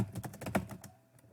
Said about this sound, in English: you're going to type your AP ID here